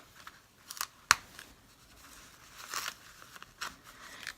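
Placement stitches are torn off an in-the-hoop embroidered snowman zipper bag, giving several quiet, brief snapping and ripping bursts, one sharper than the rest, spaced irregularly over faint background noise.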